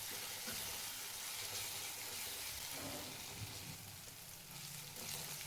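Green chili paste roasts in hot oil, giving a steady, close sizzle and crackle with small bursts of spattering throughout and no voices.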